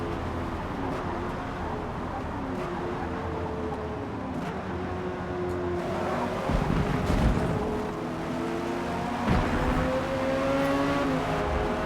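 A Chevrolet Corvette C8 Stingray races in the video game Forza Motorsport. The engine drones and revs through rising and falling tones, with a couple of louder surges as it accelerates, and no one speaks.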